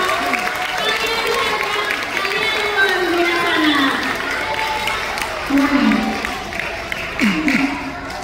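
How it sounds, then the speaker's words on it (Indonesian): An audience at a school festival of wayang and musical drama claps steadily, with crowd noise underneath and a speaker's voice talking over the applause. "sekali lagi berikan tepuk tangan buat kalian luar biasa."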